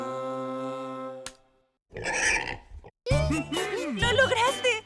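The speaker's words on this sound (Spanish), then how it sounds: "Es el sonido que hace un cerdo." Pig oinking in a children's animal-sound game: a drawn-out tonal squeal, then a short rough grunt, followed by a voice speaking.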